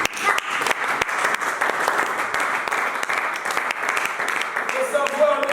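A church congregation applauds, a dense, continuous burst of clapping from many hands up close, with voices heard among it.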